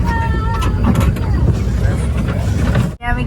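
A mini train ride at Krishnachura runs with a steady low mechanical rumble and clatter, broken by a brief dropout near the end, as voices carry faintly in the background.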